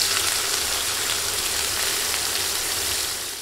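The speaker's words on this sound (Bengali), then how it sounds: "একই তেলে দিচ্ছি পেঁয়াজ।" Sliced onions sizzling in hot oil in the same pan just used for frying fish, over medium heat, giving a steady, close hiss that stays even and fades slightly at the end.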